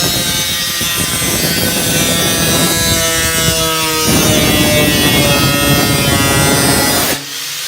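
An angle grinder cuts through the metal wall of a Sprinter van to open a window hole, a loud, steady, close whine with shifting harsh tones that runs continuously and stops abruptly near the end.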